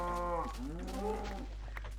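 A Minecraft cow moos once, loud and close, in a drawn-out low call lasting about a second and a half, with no talking.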